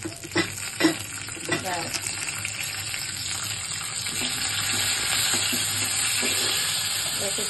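Curry leaves tossed into hot oil crackle and sizzle loudly in a pan, a steady frying hiss with sharp pops early on. Stirring clatters underneath, and a brief word is spoken.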